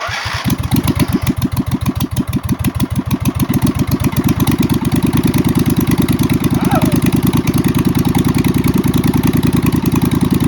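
A V-twin engine swapped into a racing lawn mower cranks, catches and settles into a loud, steady idle, close up, with a rapid even thump throughout and no speech.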